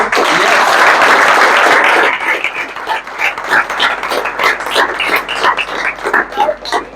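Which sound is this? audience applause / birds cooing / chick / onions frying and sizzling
audience applause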